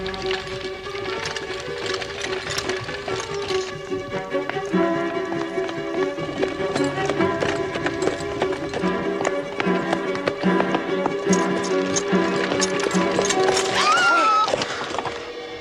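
Horse hooves clip-clop at a steady running pace on a road in a Sherlock Holmes drama, with continuous rhythmic tapping mixed under orchestral music throughout.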